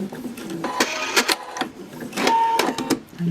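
A sewing machine back stitches fabric pattern pieces in short, rapid mechanical bursts, close and clear, with brief pauses between runs.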